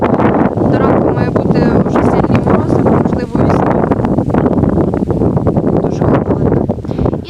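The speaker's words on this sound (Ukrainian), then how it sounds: "Дуже холодно, сильний вітер зривається" Strong cold wind blasts steadily over the microphone outdoors at a grape vineyard while saplings are being planted, a loud continuous roar and buffeting with a person talking through it.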